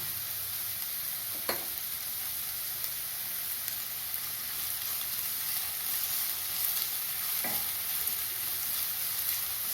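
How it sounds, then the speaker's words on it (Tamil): Onions sauté with rock salt in a pan, giving a continuous close, even sizzle. Two brief scrapes of a spoon cut through it, one early and one late. "ஒரு 2 நிமிஷம் வதக்கணும். வெங்காயம் வதங்க கல் உப்பு சேர்த்துக்கலாம்."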